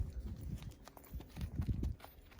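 Hooves of a horse clop and shuffle irregularly on a hard surface during trailer loading, several dull uneven steps, faint and somewhat distant, with no talking.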